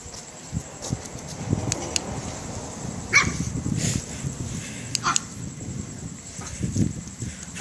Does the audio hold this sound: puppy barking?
yes